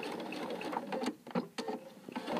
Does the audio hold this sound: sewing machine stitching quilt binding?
yes